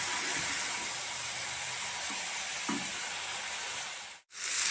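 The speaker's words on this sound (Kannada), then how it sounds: "ಇದೆಲ್ಲ ಸ್ವಲ್ಪ ಫ್ರೈ ಆಗಲಿ ಚೆನ್ನಾಗಿ." Tomato, onion and Byadgi chillies fry in hot oil with a steady, broad sizzling hiss, a couple of soft stirring knocks, and a brief dip to near silence just before the end.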